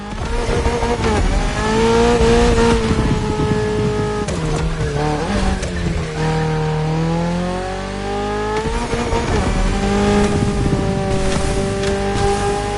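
A Toyota GR86 with a naturally aspirated engine races in Motorfest, its loud engine note rising and falling through gear changes and sustained revs, with occasional tire noise, continuous throughout.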